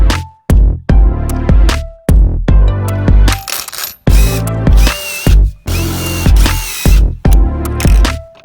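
A power drill whirs loudly in repeated short bursts, each run starting and stopping abruptly as it pre-drills through a wooden tabletop into the legs, with brief pauses between.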